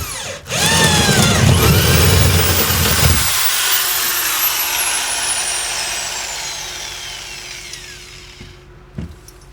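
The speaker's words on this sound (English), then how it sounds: "So the first hole drilled into a beam." A power drill whines loudly for about three seconds as it bores into a wooden beam, then cuts off, leaving a faint fading whir and a small knock near the end.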